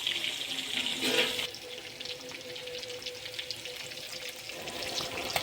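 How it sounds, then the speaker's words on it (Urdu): Fish frying in oil over a low flame, Lahori masala style, a steady crackling sizzle throughout, with a brief louder splash and clatter near the start before settling into even bubbling. "ہلکی آنچ پر فرائی کرنے سے یہ اندر تک فرائی ہو جائے گی۔"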